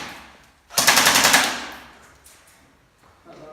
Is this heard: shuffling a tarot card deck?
no